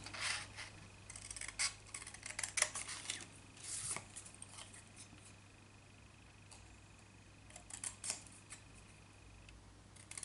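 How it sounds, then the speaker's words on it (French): Scissors cut a small paper banner, or pennant, for a handmade craft, giving a series of quiet, close snips and crisp paper rustles in short bursts with pauses between, and no talking. "je vais découper cette petite banderole"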